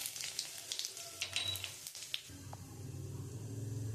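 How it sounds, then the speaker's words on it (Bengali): Whole garam masala, bay leaf, dried red chillies and cumin seeds crackle as they temper in hot oil, with faint scattered pops that settle into a low, steady sizzle. "আমরা ওই তেলের মধ্যে আমি গোটা গরম মশলা, তেজপাতা, শুকনো লঙ্কা আর জিরে ফোড়ন দিয়ে দিচ্ছি।"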